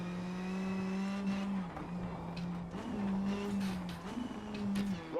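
Rally car in a WRC video game, engine droning steadily with brief lifts and shifts, tyres squealing and skidding on the stage surface; fairly quiet and continuous, without talk over it.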